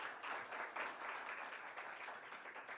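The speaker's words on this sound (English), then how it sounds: "let's give an applause to him" At an international forum on transboundary air pollution, a conference audience claps for a speaker, faint and distant but continuous, a soft even patter of many hands.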